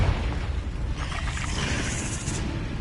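A Confringo spell blast in the video game Hogwarts Legacy, a dense low rumbling boom that swells and lingers with crackling high hiss, heard alone without talk.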